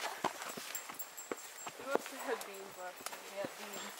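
Horse hooves clip-clop at an easy walking pace, several distinct knocks, while people talk quietly in the background.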